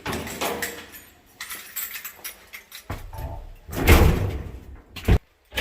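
An apartment building elevator door slides and thuds shut, with rumbling mechanical movement, a heavy closing clunk near the end and clattering reverberant background noise close by.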